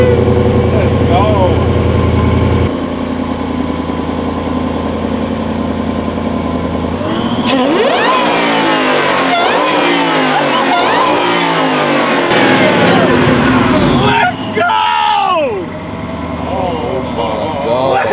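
A 1000 hp Dodge Durango SRT idles roughly with a choppy, lumpy beat, then revs repeatedly in rising and falling sweeps, loud and close, while people talk and cheer around it.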